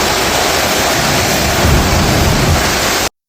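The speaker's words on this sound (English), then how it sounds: "That's the sound of Melissa's powerful, roaring winds tearing through the area." Hurricane Melissa's winds roaring across Westmoreland on Jamaica's west coast, heard as a loud, dense, unbroken rush with rain mixed in, swelling slightly midway and lasting about three seconds before cutting off.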